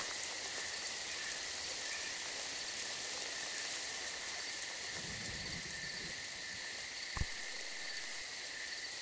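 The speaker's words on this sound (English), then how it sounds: "One thing I do have to say is the rain." Steady rain falls throughout, a dense even hiss with a brief sharp knock near the end, recorded outdoors during a tournament fishing outing.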